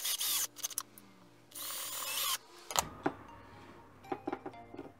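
A power drill fitted with a magnetic-tip bit drives a screw to fasten a caster wheel, giving short whirring bursts with pauses and small clicks between them, fairly close and quiet.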